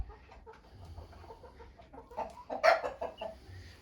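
Chickens, including new crested pompom hens, cluck and murmur close by in a coop, building to a louder squawk near the end, with a low rumble underneath.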